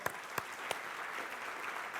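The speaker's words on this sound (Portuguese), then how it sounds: "Uma salva de palmas, pessoal aí, ó." A church congregation applauding together, a soft even patter of many hands clapping at a distance, with a few sharper claps standing out near the start.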